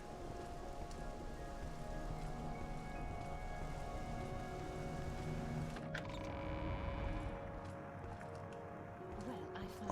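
Rain pours steadily in the game Morrowind, a constant dense hiss that holds throughout, with a person talking over it.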